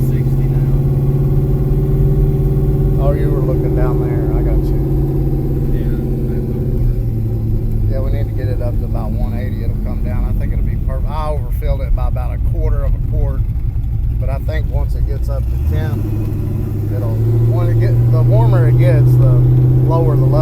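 An LS-swapped 1993 Camaro with a TH350 transmission idles with a loud, steady low rumble throughout while people talk nearby, and the engine note shifts near the end.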